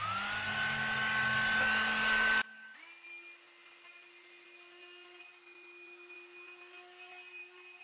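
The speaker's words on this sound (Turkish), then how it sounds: "Bu arada şu meşhur fön tarağını da yapacağım." A hot-air blow-dry brush runs loudly while straightening hair, a steady whirring motor hum that abruptly drops to a quieter, lower speed setting partway through and continues steadily to the end.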